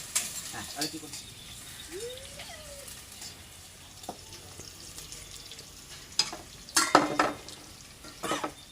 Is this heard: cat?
no